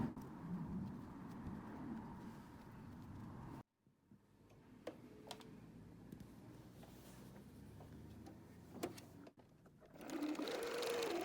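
A sewing machine stitches bias tape onto the lining of a madras tote, a close steady mechanical whir that runs, stops abruptly, gives way to faint ticks and handling noises, then starts again near the end.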